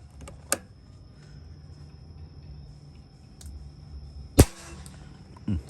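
A few sharp, isolated cracks of an air rifle firing slugs in a 72 m accuracy test, spaced seconds apart over a faint steady hiss.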